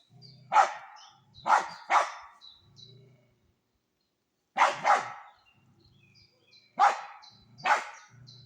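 A dog barks in a forest during mushroom picking, sharp loud barks in pairs and singles separated by short quiet gaps, fairly close, with faint birds between.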